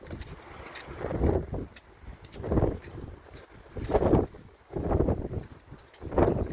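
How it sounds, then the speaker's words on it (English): Wind gusts thump against the microphone in low, rumbling surges every second or so, fairly quiet, with no voice heard. "So it's a little bit windy up here, so you might not be able to hear me properly."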